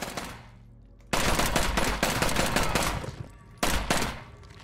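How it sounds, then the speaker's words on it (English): A submachine gun fires loud rapid bursts in State of Decay 2, one long stream of shots lasting over two seconds followed by a second short burst after a brief pause. "I have a submachine gun."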